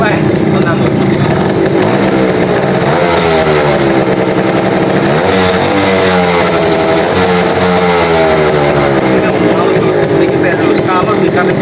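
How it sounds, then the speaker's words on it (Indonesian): An old two-stroke motorcycle engine runs loud and close, a raspy buzzing idle with wavering blips of throttle throughout. "Coba kita cek sound motornya, kita cek sound ya."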